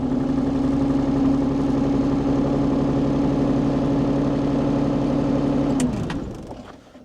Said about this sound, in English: let's start the machine and make sure it actually starts